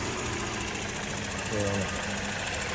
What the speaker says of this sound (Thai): เครื่องยนต์เดินเรียบนะครับ